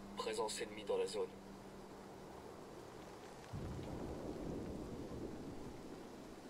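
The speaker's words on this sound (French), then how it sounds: "ça c'était le tonnerre sans doute" Thunder in the Ghost Recon Wildlands video game: a low rumbling roll starting midway and continuing steadily to the end, beneath a faint rain-like hiss, after some brief earlier sounds.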